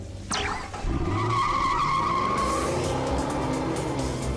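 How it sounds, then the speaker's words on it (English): A remote-controlled car in a Transformers: Rescue Bots cartoon zooms off with a sharp rising whine, then a long tire squeal and steady engine hum as it drives, loud and up close. "That is the car driving normally"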